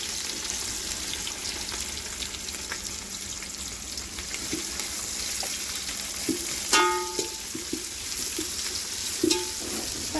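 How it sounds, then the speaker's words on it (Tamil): Onions sauté in a pan for chicken dum biryani, a steady broad sizzle and crackle running throughout, with a few sharp utensil clinks and scrapes near the end, close and even in level. "வெங்காயம் நல்லா பொன்னிறமாக வதங்குற வரைக்கும் வெயிட் பண்ணுவோம்"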